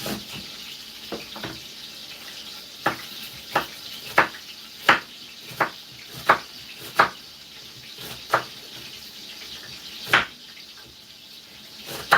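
Food browning in a pan gives a soft, steady sizzle, broken by a dozen sharp scraping clicks as it is stirred now and then.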